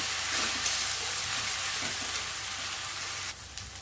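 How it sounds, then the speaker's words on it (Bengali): Ginger-garlic spice paste sautés in a pan while being stirred, a close, steady sizzle with soft scraping that dips briefly near the end. "নাড়াচাড়া করে নেবো যতক্ষণ না আদা রসুনের কাঁচা গন্ধটা যাচ্ছে, ততক্ষণ একটু কষিয়ে নেব।"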